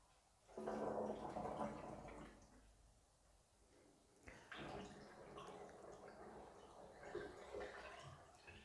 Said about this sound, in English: the last of the water just drained out of the bath.